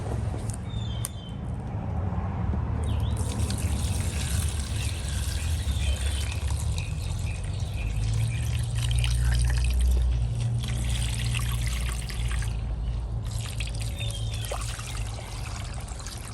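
Rusty hand tools such as pliers and brushes settle into a tub of Evapo-Rust liquid outdoors, with a steady low trickling, pouring wash and faint birdsong in the background, continuous and moderately quiet.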